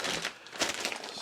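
A thin plastic bag holding a Latvian military field ration crinkles, with several close, sharp rustles and crackles from handling and no talk.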